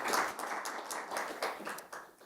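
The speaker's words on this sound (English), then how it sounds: "let's first give a round of applause for our guest" An audience at a talk on human rights after 9/11 gives a short round of applause for a guest speaker. A modest group claps in a loose, uneven patter that ends abruptly.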